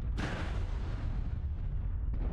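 A heavy PPC weapon discharge in a BattleTech mech game erupts as a loud, booming blast with a deep rumbling tail that lingers for about two seconds before cutting off.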